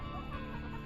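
Chickens cluck softly in a short burst of low, murmuring calls, close by with no talking.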